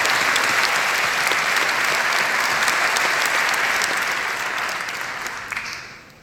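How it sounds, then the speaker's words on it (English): Sustained, loud audience applause at the Cannes Lions advertising awards ceremony, a dense wash of clapping that holds steady for several seconds before fading out at the end. "so yet again, another round of applause"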